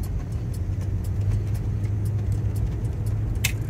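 A 1976 Cadillac Seville on the road, its engine a steady low rumble with road noise from inside the car and a few faint clicks and knocks over the hum.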